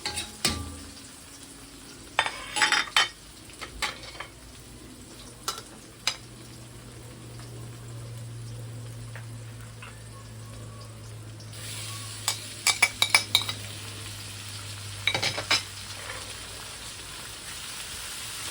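Onion and tomato sautéing in a pan with browned garlic for an old-school beef mechado, a quiet steady sizzle with scattered scrapes and clinks of a spoon stirring, no talk.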